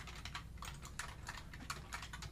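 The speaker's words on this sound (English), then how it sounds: "So just try to follow along with what I'm typing here." Fast, steady typing on a computer keyboard while entering HTML code, a quiet close run of light key clicks with no talk.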